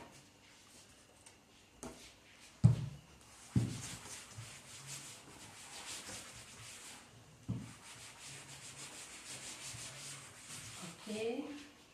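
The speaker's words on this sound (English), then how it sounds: "For that I need to rub my board a little." Faint soft rubbing and wiping as a writing board is cleaned, with a few sharper knocks and scrapes scattered through a quiet room.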